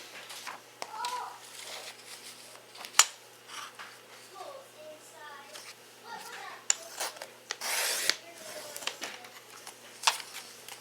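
Scissors snip through paper as daily planner pages are cut out, making short, quiet crisp cuts and rustles at an uneven pace with a brief louder swish near the end.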